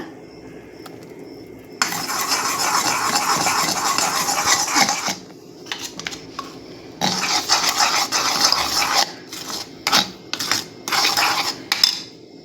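Jackfruit pulp and gram flour for mysore pak being stirred in a pan, with bursts of scraping and clinking of a utensil against metal, loud and close, broken by short pauses.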